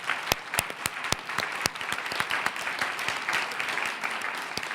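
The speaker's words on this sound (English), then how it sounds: "Let's give our students a round of applause and thank them for their wonderful work." An audience at a school board meeting applauds students with a steady round of clapping, many hands close by, punctuated by several sharp, loud individual claps.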